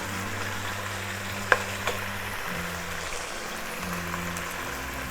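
Lemon pepper chicken sizzles steadily in a hot pan as salt goes in and the pieces are stirred, with a couple of sharp utensil scrapes over the constant close frying hiss.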